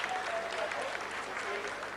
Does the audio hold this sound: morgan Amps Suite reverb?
no